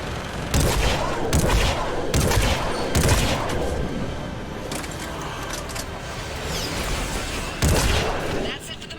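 Gunship cannon fire in the video game Mass Effect 3 comes in loud, sharp bursts of rapid shots, spaced several seconds apart over a steady battle rumble.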